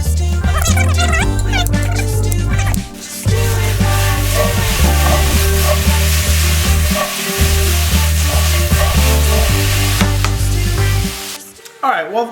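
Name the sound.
potatoes frying in a pan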